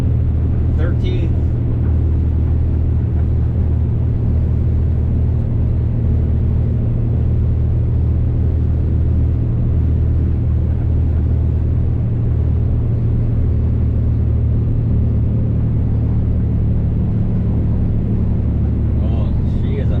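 Kenworth T880 truck engine labouring to haul a heavy load up a steep hill, a steady loud low drone throughout with someone talking over it.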